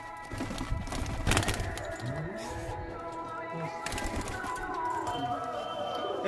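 Racing pigeons coo softly in a loft, a steady low murmur of calls from several birds running throughout, with background chatter and handling noises mixed in.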